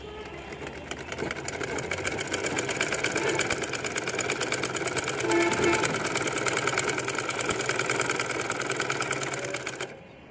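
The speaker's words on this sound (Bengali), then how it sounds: "এখন দেখব আমাদের সেলাইটা হচ্ছে কিনা" Sewing machine stitching after a repair for skipped stitches, a loud steady rapid mechanical chatter running about ten seconds before stopping abruptly.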